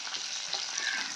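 Masala sizzles hard in hot oil as it goes into a pan for a crushed crab dish, a continuous bright hiss close by with no pauses.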